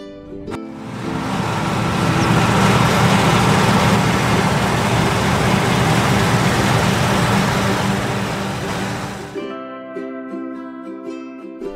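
A heavy machine engine rumbles loudly and steadily for several seconds before fading into light background music.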